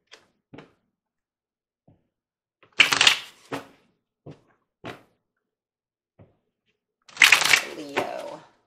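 Tarot cards being shuffled for a reading, with two loud riffling bursts and several short, sharp card taps and slaps in between against a quiet background.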